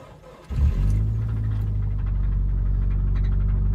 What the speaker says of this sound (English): there's definitely some loose parts rattling around inside the engine